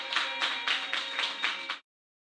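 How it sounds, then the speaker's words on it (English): A live event audience claps in a dense, steady round of applause that swells briefly and then stops abruptly after under two seconds. "Let's give them a round of applause."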